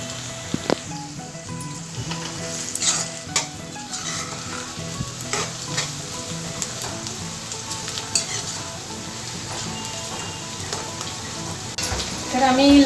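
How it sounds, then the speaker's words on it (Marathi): Baby jackfruit sautés in a pan with a steady crackling sizzle, interrupted by occasional clinks and scrapes of stirring, close and continuous throughout. "चांगला ब्राऊन होईपर्यंत परतून घेऊया।"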